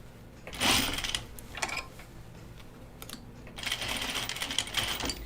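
A sewing machine stitches a laundry basket in short, rapid bursts of mechanical whirring, with a longer run at the end, close and clear over a low background hum.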